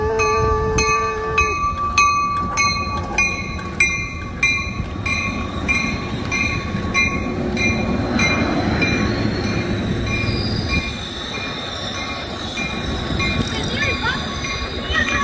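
A North County Transit District Coaster commuter train runs through Solana Beach station, with loud rumbling wheels, squeals and rhythmic clatter building and fading over several seconds while people talk nearby.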